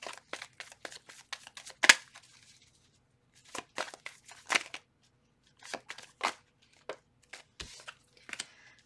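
A deck of tarot cards being shuffled in quick riffling bursts, with crisp papery flicks and short pauses between rounds, close up and fairly quiet.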